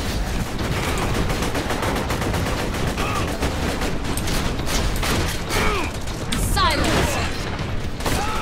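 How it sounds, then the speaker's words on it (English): A video game turret fires in long rattling bursts of automatic gunfire with mechanical clatter and an explosion-like boom near the end, steady and loud throughout, with a voice speaking over parts of it. "I love this silly little turret."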